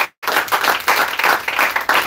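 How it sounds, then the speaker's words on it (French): A church congregation claps in praise of Jesus, dense, loud applause with rhythmic surges after a brief silent gap at the start. "Si vous comprenez, acclamez le Seigneur Jésus."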